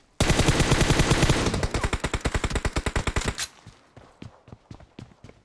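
Rapid automatic gunfire from an online shooter game rattles off in a loud, dense burst, then thins into spaced single shots that fade toward the end, with no talk over it.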